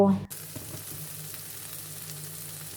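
Oil sizzling and crackling steadily in a pan with mushrooms frying, a continuous frying hiss with small pops, after a brief thud at the start.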